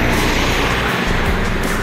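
A bus rumbles past close by on a Sumatran highway, a loud continuous roar of engine and road noise with no voices.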